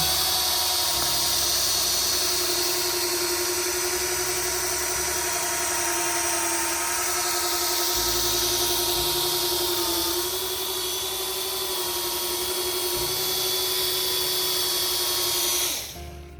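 A power buffer polishes a plastic car headlight at full speed, giving a steady high-pitched motor whine that holds for most of the stretch before spinning down at the end.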